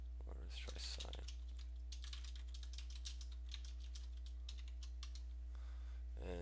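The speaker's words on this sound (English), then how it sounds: "just typing in with the keyboard, putting into some random calculations" Quick bursts of keystrokes clatter on a computer keyboard, clustered at the start and middle with brief gaps, over a low electrical hum.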